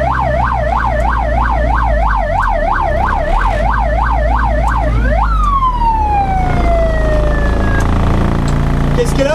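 Reversing siren on a former ambulance, a rapid warbling wail repeating steadily, then a single long falling tone as it cuts off, loud and close over a low engine rumble.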